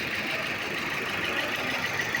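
A Toyota Hilux XLI pickup with a slightly weak engine, sold at a government vehicle auction, idles after starting with a steady, even rumbling hum.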